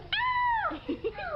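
An 8-week-old puppy lets out a rising and falling howl, a clear drawn-out high-pitched wail followed by a few short whimpering yips, close to the microphone with a faint low background hum.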